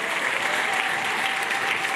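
A church congregation breaks into steady, dense applause, many hands clapping together at an even level throughout with no voices.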